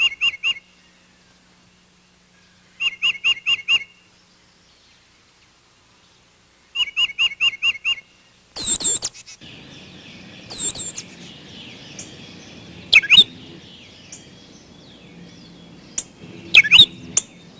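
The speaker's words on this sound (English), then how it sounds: "there will also be tufted titmice, a common and delightful bird of the backyard" A tufted titmouse calls in a backyard setting in winter, giving short bursts of rapid clear whistled notes repeated at intervals, followed by a few sharper chirps from nearby birds against faint background noise.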